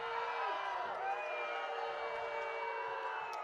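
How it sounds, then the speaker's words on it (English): High school football crowd at Mingus Union High School voicing displeasure, a continuous wash of booing and shouting from the stands, with faint whistle-like tones drifting over the steady roar. "the crowd has definitely got into it, as they are displeased with the lack of a flag thrown"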